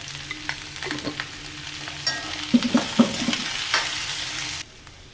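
Chopped onions sauté in a pan for a Kerala-style prawn roast made without masala, a steady sizzle broken by scraping and a few sharp spatula clicks near the middle, close and without talk.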